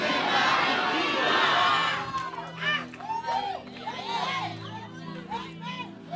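A church congregation in a Swahili-language service breaks into loud, massed shouting for about two seconds, then fades into scattered voices and a single preacher speaking over lingering crowd noise.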